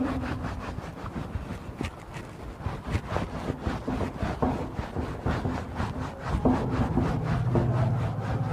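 A duster scrubs writing off a classroom board in rapid back-and-forth rubbing strokes that run steadily and close by, with no talking over them.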